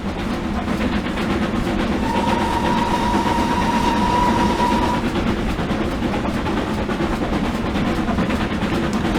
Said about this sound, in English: This train goes a lot faster than the GWR Grange